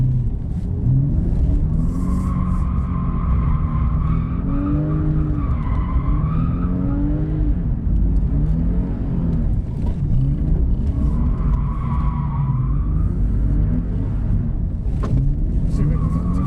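A car engine roars loud and close, accelerating with a sustained growl and rising, wavering pitch, with tires squealing over the top for much of the time.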